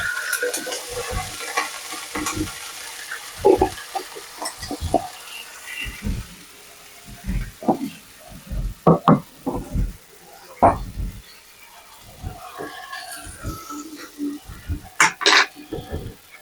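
Garlic sizzling in a frying pan while a utensil stirs it, giving repeated short scraping strokes over a low steady fry, close, with occasional talk.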